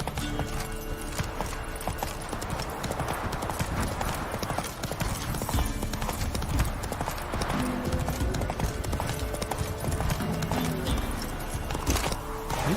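Roach the horse gallops in The Witcher 3, a rapid, steady clip-clop of hooves running throughout with faint game ambience underneath and no talking.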